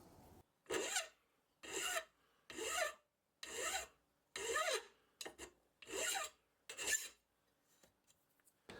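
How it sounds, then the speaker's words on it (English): Eight evenly spaced rasping file strokes on a steel bolt fresh from a metalworking lathe, taking off the small nub left by the parting tool; close and clear, with short quiet gaps between strokes. "it's easily removed with a few strokes from a file"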